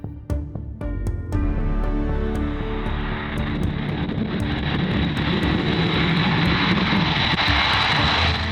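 A B-52 bomber's engines roar loudly and steadily for several seconds, preceded by a few sharp clicks and a rising start.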